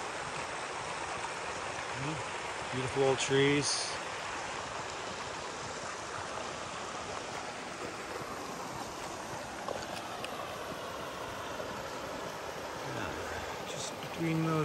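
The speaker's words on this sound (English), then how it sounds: "Got this nice little creek here." A small creek flows in a shaded wooded spot, a steady soft rush of water running throughout while someone briefly speaks over it.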